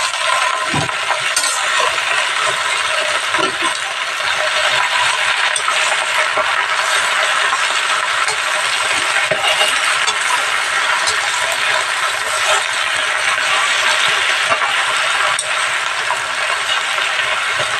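Jute leaves are stir-fried in a pan over browned chopped garlic, with a continuous close sizzle and occasional light metallic clinks from stirring. No voices are heard.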